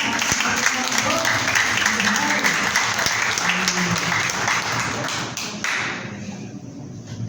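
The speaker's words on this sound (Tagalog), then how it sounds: "Maaari ba natin bigyan ng malakas na palakpak?" Loud, dense applause fills a graduation hall at the Asia School of Ministry and Missiology in Quezon City, with a few thumps and taps inside the steady clapping, then it thins out and fades near the end.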